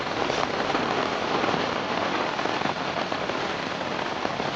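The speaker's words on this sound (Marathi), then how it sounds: "जरा पाऊस कमी झाला असता ना तर जरा लेस बरं झालं असतं" Heavy monsoon rain pours steadily over the Konkan countryside, a dense, loud, unbroken hiss of drops on surfaces with no voices.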